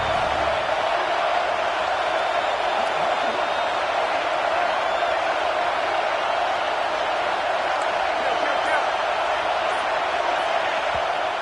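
A stadium crowd at an Illinois versus Georgia football game roars continuously on third down, a thick, sustained wall of cheering noise with no break.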